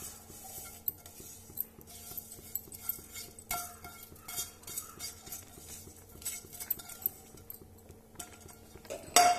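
A metal spoon stirs roasted thin vermicelli into custard kheer in a pan, giving soft repeated scrapes and light clinks against the pan under a steady low hum, with a louder knock at the end.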